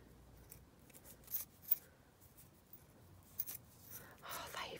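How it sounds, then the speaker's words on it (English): Blunt scissors cutting paper while making a junk-journal envelope: a few faint, close snips scattered over several seconds, with soft paper rustling and quiet breathy talk in between. "what blunt scissors."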